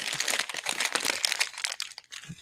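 Close, crisp crinkling and rustling of wrapping paper, continuous with irregular crackles, fairly quiet and without any voices.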